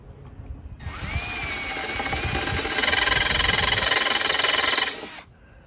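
A power drill spins a mystery bit against a workpiece, a steady high whine that starts after a brief pause, grows louder and more strained midway, then cuts off, with no talk over it.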